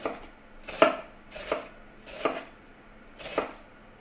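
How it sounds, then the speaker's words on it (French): A knife chops through an onion on a cutting board in a home kitchen, five crisp evenly spaced cuts, close and distinct, with no talk. "je vais émincer mon oignon"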